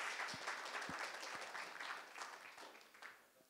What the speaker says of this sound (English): I'd like to give a big round of applause for everyone who was participating